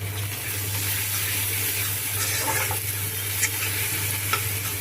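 Onion, garlic, green and dried chillies, ground coriander and cumin sizzle and fry in hot oil while being stirred, giving a steady close crackle with occasional sharp spoon clinks and no talking.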